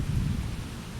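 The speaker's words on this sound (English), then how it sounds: "And rain's starting again" Wind-driven rain beginning outdoors, a steady low rushing hiss with gusty rumble throughout, fairly loud and close, no voices.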